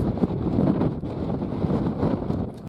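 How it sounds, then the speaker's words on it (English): Strong wind on an allotment plot roars and buffets the microphone in rough, fluctuating gusts, loud and close, with nothing else audible. "it's too windy for the flag today"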